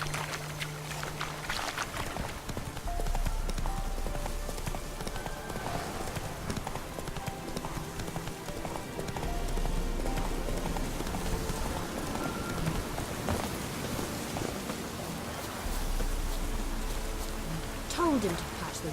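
Roach, Geralt's horse in The Witcher 3, gallops with steady, rapid hoofbeats under a rain-like wash of game ambience and music that runs throughout.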